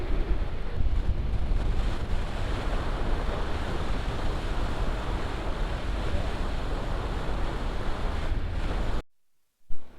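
Sea waves wash in steadily with strong wind buffeting the microphone at a seaside viewdeck near San Fabian, a continuous loud roar that cuts out abruptly near the end.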